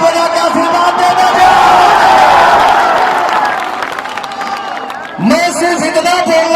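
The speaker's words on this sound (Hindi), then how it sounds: "तो ताली बजा के आशीर्वाद देना।" A crowd at a political rally clapping and cheering, a dense loud roar of applause and shouts that dips briefly before rising again.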